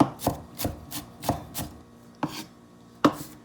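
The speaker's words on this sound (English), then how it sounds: "So I'm just dicing the onion up now." Red onion being diced with a knife on a cutting board for pico de gallo: crisp, close chopping knocks, about eight strikes at an uneven pace with short pauses, no talking.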